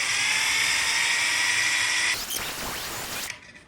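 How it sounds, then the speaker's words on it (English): A power drill drives a screw into metal with a loud, steady high-pitched whine, then shifts to a rougher grinding as the screw bites in before the drill stops. "I can see that I'm digging in and it's drilling in."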